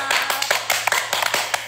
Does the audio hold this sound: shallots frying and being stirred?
no